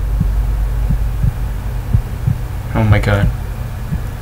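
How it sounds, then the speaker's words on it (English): Steady, low, thumping heartbeat effect in the horror video game Buried Beneath (demo), pulsing evenly throughout over a droning hum, with a player's brief startled exclamation partway through. "Why is my heart beating?"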